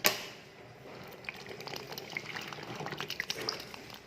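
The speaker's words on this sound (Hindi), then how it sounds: "ये देखिए, मैंने बेसन के अंदर पानी डाल दिया है।" Water poured into gram flour (besan) batter for dahi bara, a soft liquid pour and splashing that runs steadily for a few seconds after a brief sharp knock, fairly close and moderately quiet, with no talking.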